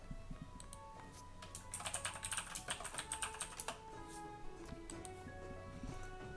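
Someone types on a computer keyboard nearby, quick irregular bursts of light key clicks with a faster flurry in the middle, soft and close, with no voices.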